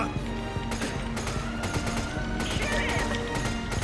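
Rapid gunfire from Resident Evil 5 gameplay, sharp repeated cracks over a dense bed of game music and effects, with a voice talking over it.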